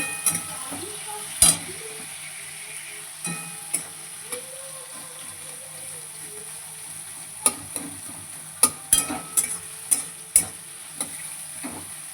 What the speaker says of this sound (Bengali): আমি এখন পেঁয়াজটা ভালো করে ভেজে নেব লাল লাল করে